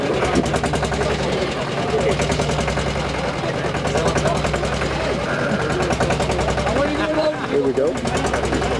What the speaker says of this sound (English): this guy obviously knows that his bike's going to start because he's already sat on it